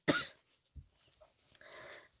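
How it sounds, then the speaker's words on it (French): A sharp, loud cough bursts out at the start, followed by a couple of softer throaty coughs and a faint rasp of breath afterward. "je suis désolée si ça vous dérange que je tousse"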